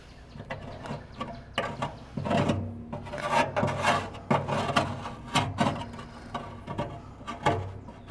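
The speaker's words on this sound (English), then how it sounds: "Now all your grease runs down into that trough, and I'm just going to loosen some of that." A metal tool scrapes caked grease loose from the trough of a pellet smoker, with repeated rough rasping strokes and occasional knocks, close up and irregular in rhythm.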